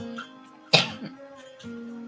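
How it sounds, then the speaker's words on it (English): A single sharp cough bursts out near the mic, followed by a brief throaty tail, with a steady low hum underneath. "Hold on, I need to cough."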